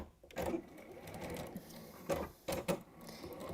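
Sewing machine stitching a quilt: a steady, close mechanical whirr of running stitches with several brief louder clunks and rattles near the end, no talking.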